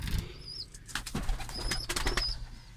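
Tumbler pigeons flap their wings in flight, making bursts of close fluttering and whooshing with faint chirps over an outdoor background.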